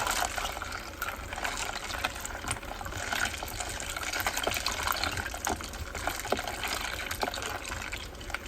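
Cold water gushes steadily into a pitcher of peppermint cucumber iced tea packed with ice, a close continuous pouring hiss with faint clinks, heard alone without speech.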